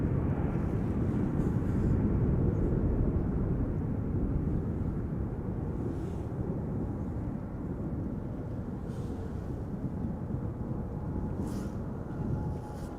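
A Boeing 737 departs Schiphol Airport as a broad, sustained jet-engine roar, loud and steady throughout and slowly easing off, with no voices.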